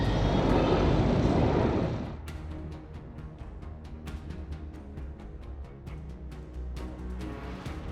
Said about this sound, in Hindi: इसराइली हेलीकॉप्टर लगातार गड़गड़ाते हुए हर एरिया में तलाशी अभियान चला रहे हैं